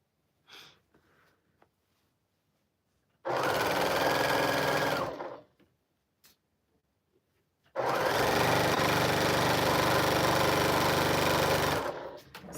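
A sewing machine stitches a final quilt block onto a row in two loud, sustained runs of rapid needle chatter, separated by a pause with a few small handling clicks.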